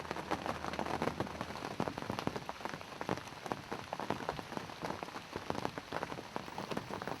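Steady rain falls on surfaces outdoors during a 2010 hunting outing, a dense constant patter of drops with scattered louder splashes throughout, no voices.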